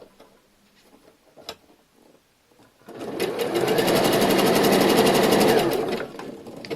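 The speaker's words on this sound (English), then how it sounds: "Tug onto the elastic as I sew" A sewing machine runs steadily for a few seconds, stitching elastic onto panties, after some quiet handling of the fabric. Its even, rapid mechanical chatter is close and fairly loud, with no talking.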